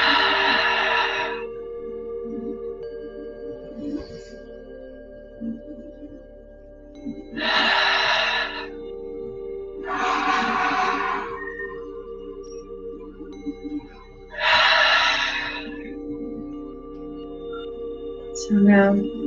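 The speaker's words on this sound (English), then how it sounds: "Now we're going to take 3 cleansing breaths." Deep cleansing breaths taken during a morning meditation session, heard as four broad, breathy inhales and exhales spaced a few seconds apart over a low steady background hum.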